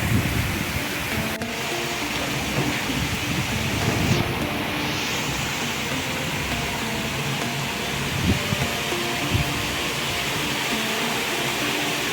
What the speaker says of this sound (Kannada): ನೋಡಿ ಎಷ್ಟು ಮಳೆ ಬರ್ತಾ ಇದೆ ಅಂತ